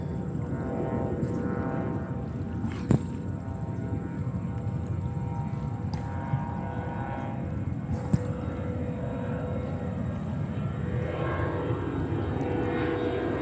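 Emirates Airbus A380 at JFK Airport, a distant, steady roar of jet engines holding a constant hum with a high whine on top, broken by a few faint clicks.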